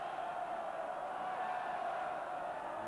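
A 58,000-strong rugby crowd at Scotland v Wales in the 1989 Five Nations, sustained loud roaring that holds steady throughout as a dense, continuous wall of stadium noise.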